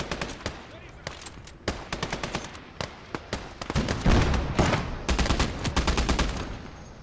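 Machine gun fire in Call to Arms - Gates of Hell on the Eastern Front, rapid bursts of close, loud shots with short gaps, then a denser stretch of heavier overlapping fire in the second half.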